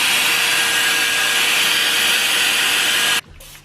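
A carpet cleaner running loud and steady as it sprays and vacuums a stain, a continuous whooshing suction roar that cuts off abruptly near the end, leaving a faint hum.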